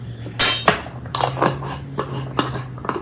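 A yeast mixture with sugar is stirred in a bowl for cinnamon roll dough, beginning with a sharp clink and continuing as light, irregular taps and scrapes of a utensil against the bowl.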